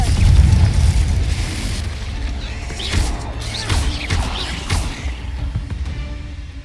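A Confringo fire spell from the video game Hogwarts Legacy bursts with a loud boom, followed by several sharp crackling hits and whooshes over a rumbling game soundtrack.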